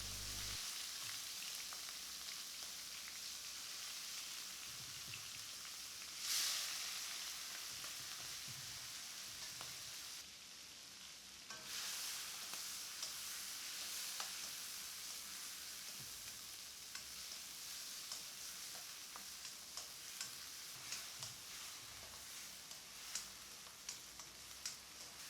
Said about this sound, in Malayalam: എണ്ണയിലേക്ക് ചെമ്മീനിട്ട് വറുത്തെടുക്കാം.